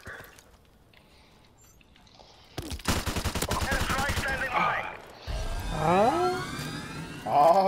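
Bursts of rapid automatic gunfire from the video game Modern Warfare Remastered, a loud rattling volley that starts abruptly partway in, with game effects and sirens layered over it.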